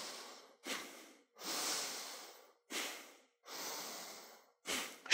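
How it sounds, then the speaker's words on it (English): Shallow, high chest breathing demonstrated alone: three rapid, noisy inhales alternating with longer airy exhales, close and clear with no talking. "Most people's breathing has a motion that goes up like this."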